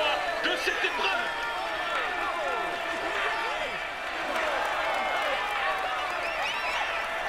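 A crowd cheers and claps for a cyclist in a Tour de France 2020 racing game, a continuous dense roar of applause and shouting with whistles, while a commentator talks over it.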